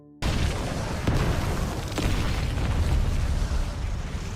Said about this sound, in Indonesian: Cheng buang ke dalam rumah Kong, sehingga rumah Kong meledak dan membunuh Kong beserta anak buahnya.